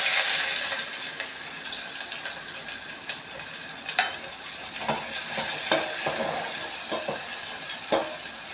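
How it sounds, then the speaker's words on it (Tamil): Chopped onions sautéing in a pan for Tamil kara kulambu, a steady close sizzle with frequent scraping stirs of a spoon, and no talking over it. "வெங்காயம் போட்டு நல்லா வதக்கணும்."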